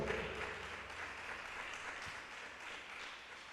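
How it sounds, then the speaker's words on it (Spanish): A church congregation applauds in a steady, even wash of many hands clapping, moderately loud and continuous with no voices on top. "Denle un fuerte aplauso al Señor."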